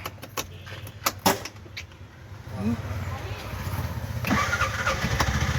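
Bajaj CNG auto rickshaw engine being started after a repair, a few clicks and bursts giving way to a steady low engine rumble that rises and holds, with a voice talking early on.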